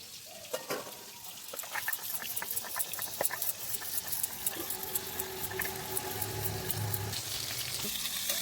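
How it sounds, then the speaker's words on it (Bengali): Fish fries in oil in a wok with a soft, steady sizzle, broken by scattered sharp clicks and taps that grow busier toward the end. "মাছটা ভাজা হতে হতে"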